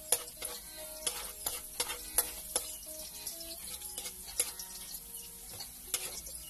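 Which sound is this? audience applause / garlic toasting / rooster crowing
garlic toasting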